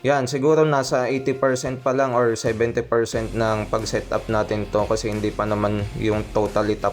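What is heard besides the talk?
No everyday noises stand out.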